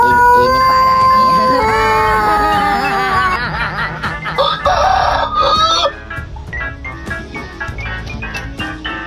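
A rooster crows loudly and close by, one long wavering call that is followed by clucking and chuckle-like sounds, with talk underneath.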